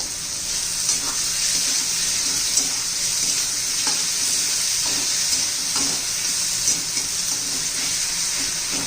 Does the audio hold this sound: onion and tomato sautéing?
yes